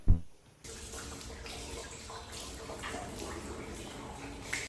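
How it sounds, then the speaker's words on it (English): Tap water running steadily into a basin while someone washes for wudu ablution before prayer at a mosque in Busan, Korea, close and continuous after a brief knock at the start, with faint voices underneath. "Before prayer, I made wudu."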